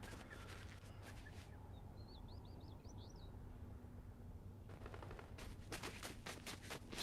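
Rapid video game gunfire crackles in bursts, a cluster of quick shots at the start and a denser volley toward the end, over steady in-game ambience with a brief chirping sound in between.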